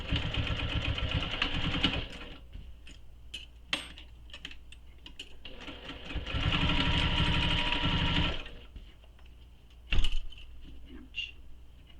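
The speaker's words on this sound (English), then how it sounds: "I'm going to baste these short edges just so they stay together." Sewing machine basting the short edges of a tote bag, running in two steady whirring bursts with a pause of light clicks and handling noise between, close and fairly loud.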